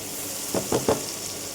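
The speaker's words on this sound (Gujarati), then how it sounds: "આપણું વેજીટેબલ ફાસ્ટ ગેસ ઉપર જ સોટે કરવાનું છે." Vegetables sautéing in a pan over a high gas flame give off a steady, moderate sizzle, with three quick stirring scrapes near the middle and no talk.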